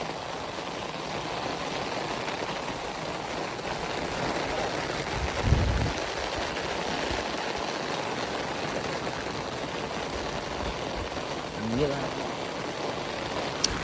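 Heavy rain pours in a village in a dense, unbroken hiss of falling water that runs the whole time, with a couple of brief louder knocks and a voice murmuring faintly beneath the downpour.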